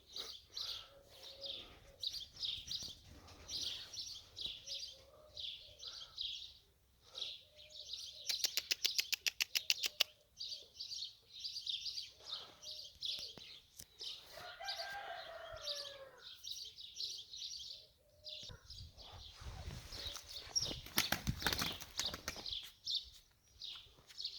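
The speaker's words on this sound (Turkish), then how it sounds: "Kuş iyice daraldı." A white male pet bird, seemingly stressed, gives repeated high chirping calls in bursts, with some rapid clicking flurries and a brief rising whistle in between; calls sound close and fairly loud, with no speech.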